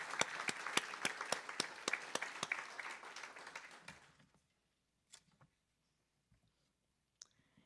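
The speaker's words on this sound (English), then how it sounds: "Let's give them a round of applause" A round of audience applause at a behavioral health crisis forum, with crisp individual claps standing out over the crowd for about four seconds before dying away to a few scattered claps.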